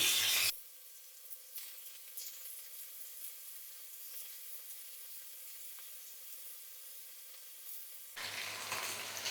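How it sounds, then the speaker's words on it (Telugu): Marinated chicken pieces laid one at a time into hot oil in a pan, giving a steady, soft sizzle that sits low and even, with louder bursts of crackle at the very start and end. "ఆయిల్ వేడెక్కాక ముందుగా మ్యాగ్నేట్ చేసి పెట్టుకున్న చికెన్ను ఇలా ఒక్కొక్కటిగా పరుచుకోవాలి."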